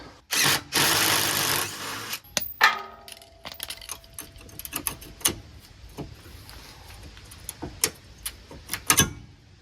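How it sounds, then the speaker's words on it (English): A power tool removes the bolts on a Jeep Wrangler JL rear bumper. Short bursts of whirring come first, followed by scattered metallic clicks and clinks of loosened bolts, close and clear. "So let me just take off these bolts."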